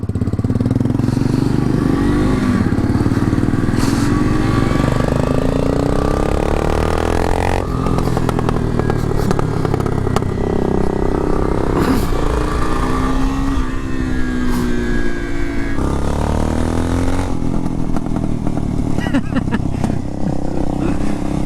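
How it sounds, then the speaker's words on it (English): Kawasaki KLR650 motorcycle riding with a loose drive chain, a loud engine drone with rapid rattling and clatter from the chain, rising and falling revs, and a person talking over it throughout. "is that chain loose on the KLR. Look at that thing dancing around."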